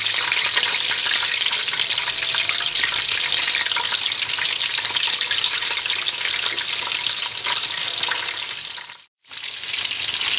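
Breaded cordon bleu frying in cooking oil gives a loud, steady, close sizzle that runs unbroken for about nine seconds, cuts out briefly, then resumes just as dense, with no voices.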